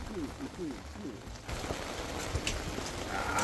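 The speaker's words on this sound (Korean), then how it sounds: "빗소리와 전 굽는 소리에 막걸리가 술술 들어갑니다" Kimchi jeon and squid-chive jeon sizzle in a pan at a lakeside campsite while rain patters steadily all around, a dense crackling wash that stays fairly even throughout.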